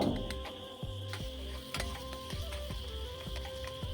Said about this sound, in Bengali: খুব ভালো করে মশলাটা এবার ভেজে নেব।